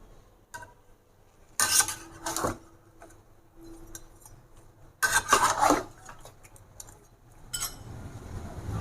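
A spoon stirs mutton chops with red chili, salt and turmeric in a pot, giving two clattering bursts of metal scraping against the pot, close by, with quieter handling in between and no talk.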